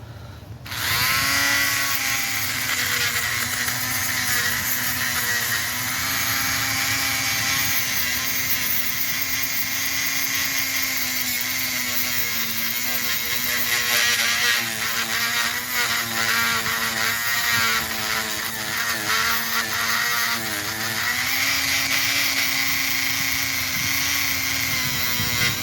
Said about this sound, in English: This is the real concern I have and why I want to use my Dremel.